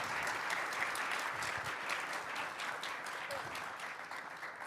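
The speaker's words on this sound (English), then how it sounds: "Please give a big round of applause to these ladies that were part of the panel" Sustained applause from an audience honouring the women of a panel discussion, a dense, steady wash of clapping that runs evenly throughout without any voices on top.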